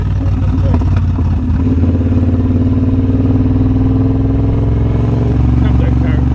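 Triumph Bobber motorcycle engine pulling steadily in third gear, a loud, continuous low rumble with a sustained drone that holds even throughout, with a faint rider voice mixed in.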